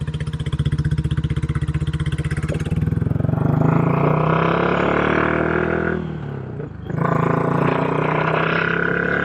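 A Royal Enfield California Goan 411 custom motorcycle thumps along while being ridden, a loud, close single-cylinder rumble that rises in pitch, dips briefly around a gear change and then picks back up, with no voices.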